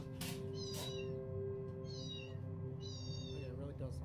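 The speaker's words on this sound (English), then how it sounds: "the sound of faint meowing coming from within a closed cupboard" A cat meows several times from inside a closed cupboard, drawn-out high cries in a row, heard faint and muffled over a low background hum.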